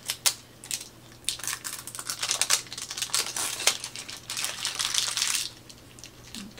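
Crinkly plastic packaging slit open with a small handheld cutter, close, rapid crackling and rustling bursts continuing for several seconds with no talk.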